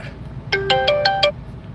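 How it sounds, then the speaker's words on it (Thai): A mobile phone rings with an incoming call inside a seven-seat Chevrolet Zafira car, giving a quick bright melodic ringtone of five tonal notes, loud and close over a quiet background hum. "พอดีมีสายเข้านะฮะ"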